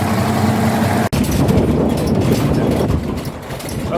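A Toyota Land Cruiser Troopy engine runs at a smooth, steady idle close by, its low rumble broken by one brief dropout near the start.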